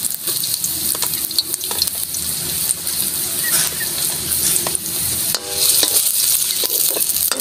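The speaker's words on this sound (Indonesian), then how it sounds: "Gigisa po muna tayo ng luya." Ginger and garlic sautéing in a hot pan, a steady loud sizzle with stirring scrapes, growing a bit louder toward the end, no talking.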